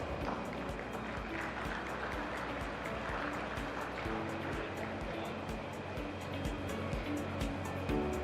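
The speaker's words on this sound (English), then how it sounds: "Let's have a big round of applause." Steady, dense applause from a large audience fills a conference hall at an industry business summit during a report launch, holding at an even level throughout with no voices over it.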